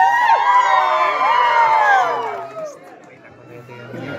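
A large crowd at a dance contest in El Salvador shouts and cheers loudly in a dense, sustained roar of voices and whoops that fades down toward the end.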